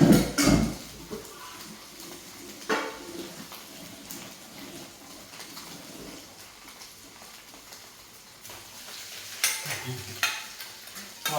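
Shrimp being stir-fried in a pan, with a soft continuous sizzle under intermittent scraping and clanking of a utensil against the pan, close and moderately loud, with no talking.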